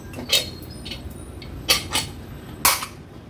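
A cooled pressure cooker holding chicken soup is opened, giving a few sharp metallic clanks and knocks of the lid, spaced apart and fairly close, with no talk.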